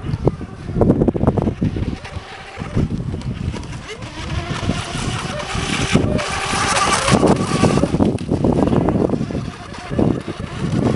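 A small model boat motor whines and buzzes in the open air, not reaching full revs, rising and falling with wind noise and voices talking nearby.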